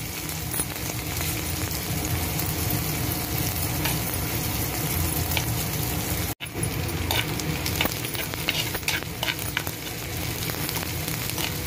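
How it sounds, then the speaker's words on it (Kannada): Continuous loud sizzling of onion tempering frying in oil with stirring scrapes throughout, a brief dropout in the middle, no talking. "ಇದಿಷ್ಟನ್ನು ಒಂದು ಸ್ವಲ್ಪ ಚೆನ್ನಾಗಿ ಒಗ್ಗರಣೆ ಕೆಂಪುಗಾಗೋ ಹಂಗೆ ಮಾಡಿಕೊಂಡ್ರೆ ಸಾಕು"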